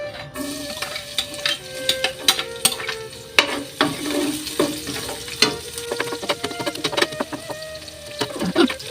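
Garlic sautéing and being stirred in a pan for a mung bean dish, a steady sizzle broken by frequent sharp clinks and scrapes of the utensil against the pan, close and fairly loud, with no talk.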